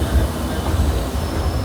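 Passenger train of the 12134 Mangaluru–Mumbai Superfast Express pulling out of a station, a loud, steady close rumble of wheels and carriage noise filling the whole moment with no voices.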